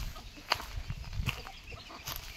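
Free-range village chickens on a Konkan poultry farm, with scattered soft clucks and a few sharper calls rising over low rustling background noise, moderately near.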